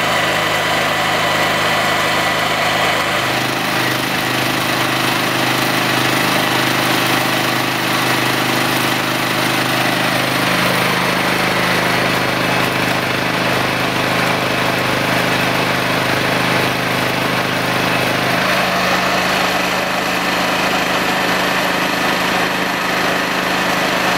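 A petrol generator engine runs continuously close by, a steady buzzing drone whose pitch and load shift slightly partway through, with no talk over it.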